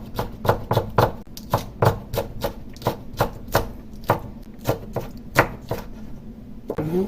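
A knife chops a single Cheongyang chili pepper on a cutting board while making bean sprout rice, in a quick, uneven run of crisp, close taps.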